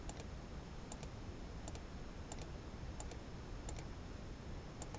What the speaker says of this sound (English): all I have to do is just left click through all the prompts